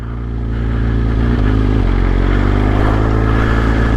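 A BMW M 1000 XR or Honda Africa Twin 1100 motorcycle fitted with a BT Moto Tune idles after a cold start, a loud, close, steady engine rumble that shifts pitch slightly midway.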